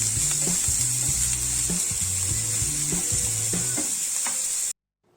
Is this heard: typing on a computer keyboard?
no